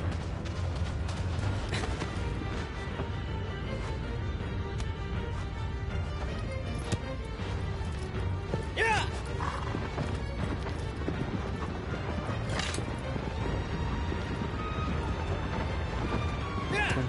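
A horse gallops in the video game Shadow of the Colossus, its hooves a steady, rhythmic clip-clop running throughout over a constant background of game ambience, with occasional sharper impacts.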